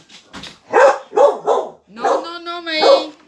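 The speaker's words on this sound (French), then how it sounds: "Alors, ça c'est le chien." A household dog named Maï barks and whines nearby, with a drawn-out tonal yelp in the middle of the burst, while someone talks and scolds over it.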